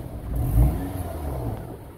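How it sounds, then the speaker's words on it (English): A 2010 Honda CR-V 4WD engine close by rises in a short rev, peaking and settling back to a rumbling idle, with no voices. "Rever up, sounds good."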